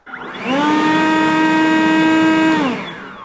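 Ryobi 40V brushless lithium-ion Whisper leaf blower running in regular mode: a loud, steady high whine spins up over half a second, holds for about two seconds, then winds down, alone with no talking.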